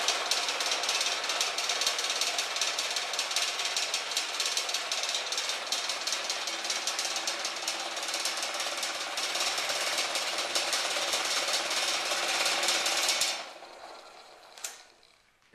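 An old buffing machine clamped to an aging work table runs with a loud, steady whirring drone and a fast mechanical rattle from the table, then cuts off abruptly and winds down near the end.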